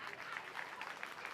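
Steady applause from an audience at a village gathering for daughters in Atkot, a dense, even patter of many hands clapping throughout without a break.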